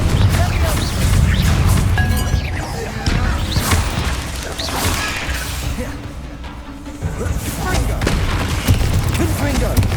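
Confringo fire spells exploding in Hogwarts Legacy: repeated booming blasts and crashes in a busy battle, with a voice calling out over the impacts.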